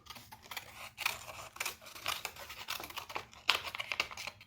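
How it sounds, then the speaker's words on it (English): Scissors snipping the corners off a small paper rectangle, a few faint, close crisp cuts spaced irregularly, with light rustling of handled paper and no talking. "I'm just gonna cut off the corners off of that as well."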